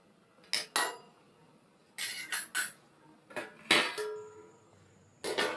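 Metal clanks and clinks from a pot and lid on a stove as an Assamese fish curry cooks, several short sharp knocks in separate bursts with quiet gaps between them.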